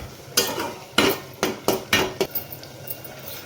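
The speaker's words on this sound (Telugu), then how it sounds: "ఇప్పుడు మూత ఓపెన్ చేసి ఒకసారి కర్రీని ఇలా కలుపుకోవాలి" Spoon scraping and clinking against a pot while egg pulusu curry is stirred, about eight sharp, uneven metallic knocks close up, with no talking.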